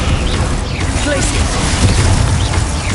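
Spell effects from the game Hogwarts Legacy burst out in quick succession, loud and dense, with booming blasts, crackling pops and whooshing magic layered over one another and a voice speaking throughout.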